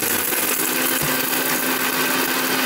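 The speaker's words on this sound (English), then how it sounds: "Now you need to put this in a mixie." A mixer grinder (mixie) whirs steadily while dry-grinding sugar and spices for a rib rub, a loud, constant motor drone with a slight rattle, running unbroken from start to finish with no talk.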